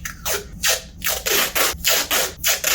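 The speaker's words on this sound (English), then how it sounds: "I'm going to start sanding." Rhythmic back-and-forth sanding strokes on an Epiphone Les Paul guitar pickup, about seven passes in steady succession, close and fairly loud, with no talking.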